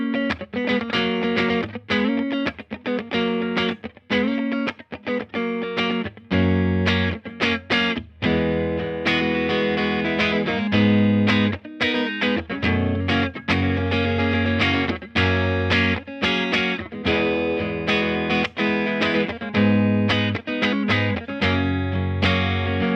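Jazzmaster electric guitar through a Blackstar Studio 10 KT-88 amp with all controls at neutral, a clean-to-mildly driven tone, a steady run of strummed chords and picked notes continuing throughout.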